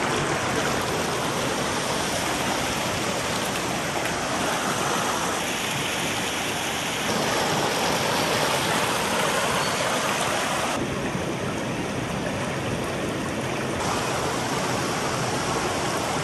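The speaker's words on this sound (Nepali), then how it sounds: "यो चाहिँ लुलुवा खोला हाम्रो खेत सिँचाइको लागि यही पानी प्रयोग गर्छ" A flowing stream, the Lulua Khola in rural Khotang, Nepal, whose water irrigates village fields, rushes in a steady, dense wash of water noise that holds unbroken and fairly loud throughout, with no voices.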